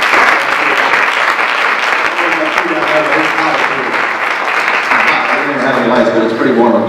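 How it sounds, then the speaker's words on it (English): A loud, sustained round of audience applause for sheriff candidates at a public forum, dense clapping that carries on unbroken, with voices speaking over it now and then. "let's give them all a round of applause."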